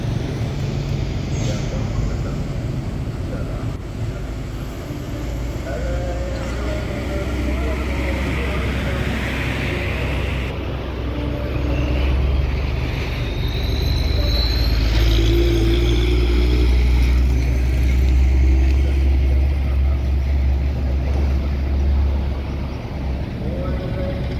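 An intercity bus from a convoy rolling into the Omega terminal, a low diesel engine rumble that swells and fades with hissing and traffic noise around it, heard from nearby alongside background voices.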